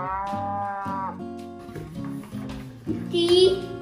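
A cow moos several times in a row, low and drawn out, close by, with a higher bleating or voice-like sound near the end.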